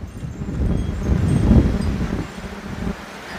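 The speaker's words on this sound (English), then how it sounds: "a gust of wind just came through here" A gust of freezing cold spring wind blows outdoors around a garden of tomato towers, a steady rumbling roar that swells to a peak midway and then eases off, with no talking.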